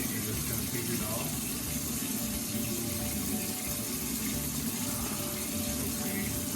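Tap water running steadily into a sink while a doll's greasy hair is rinsed, a continuous close hiss and splash filling the whole stretch without a break.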